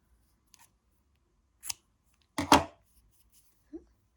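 Scissors snip the yarn ends of a crocheted drawstring bag, a few crisp close cuts spaced out in a quiet room, with one louder main snip and light handling rustle between.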